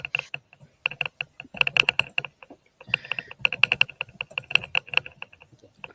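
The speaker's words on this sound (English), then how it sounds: "What's that clicking? Oh, that's loud. It's me typing." Fast, loud clicks from a computer keyboard typed on close to the microphone come in irregular bursts of keystrokes with short pauses between.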